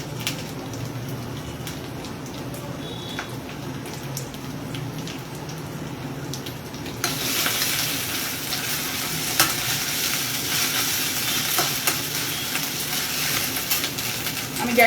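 Whole cumin seeds, about a teaspoon, drop into hot oil in a pan already holding ginger-garlic paste, breaking into a loud, dense frying sizzle about halfway through that continues steadily, close and without talk.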